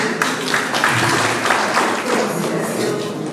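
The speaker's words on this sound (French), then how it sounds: "Sur les applaudissements." Applause from an audience at a media awards ceremony fills the whole stretch, a steady dense patter of many hands at moderate loudness, with some background voices mixed in.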